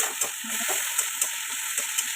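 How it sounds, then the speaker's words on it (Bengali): Ginger-garlic paste stirred into browned frying onions in a pan for a home-style red chicken curry, a soft sizzle under a few light scraping strokes of the spoon, close by. "নাড়াচাড়া করবো"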